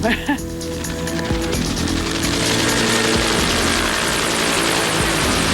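A helicopter coming in to land near a fire site where water drops are under way, its loud rotor and engine roar building steadily and filling the scene, with voices talking over it.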